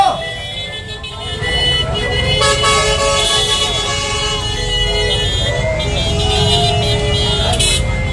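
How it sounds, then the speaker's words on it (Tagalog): Vehicle horns honk repeatedly over loud traffic noise in the Philippines, with a voice shouting "Busina!" near the start. "Bumusina po tayo! Busina! Busina!"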